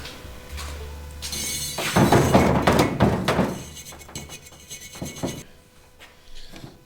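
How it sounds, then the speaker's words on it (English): Rough scrubbing and rasping against a dirty metal part ahead of welding, loudest through the middle with a few knocks, then easing off into quieter scraping. "Got dirt all over it. Let me clean this off."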